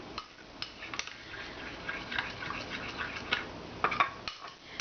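Soap mixture being stirred quickly in a container during homemade soap making, with close scraping and clinking of a utensil against the sides and a few sharper taps, no talking.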